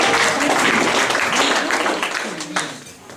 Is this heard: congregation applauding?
yes